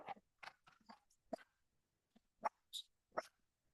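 A dog gives a string of short, sharp barks spaced unevenly, a few of them louder and closer, against an otherwise quiet indoor background.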